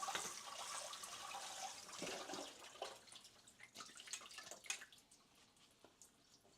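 Tap water runs as something is quickly rinsed in a kitchen sink, a soft, uneven splashing stream with small drips, fairly quiet and close.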